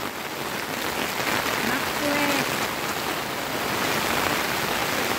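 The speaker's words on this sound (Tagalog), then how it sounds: "Parang bagyo na po." Heavy rain pours down steadily around a campsite tent, a dense, continuous wash of noise close by with no letup.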